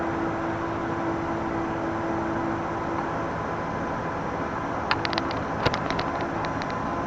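A 1977 Power Wagon truck idles high in park, its engine a steady even drone throughout with a few faint clicks near the end, no talking.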